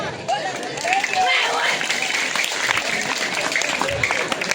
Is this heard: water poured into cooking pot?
no